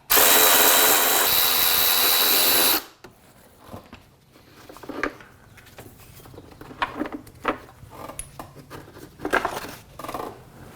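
A power tool drives out 10mm fasteners on the upper cover of a 2000 Acura Integra, a loud continuous whir for about three seconds, then quieter clicks, taps and handling noises of parts being moved.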